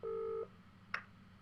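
A telephone dials out: one clear sustained dial tone, then a brief digital chirp a moment later, both quiet over faint background hiss.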